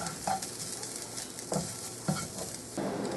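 Chopped onions and garlic sautéing in a pan for jambalaya, a soft steady sizzle with a few brief scraping stirs of a spoon, close and fairly quiet.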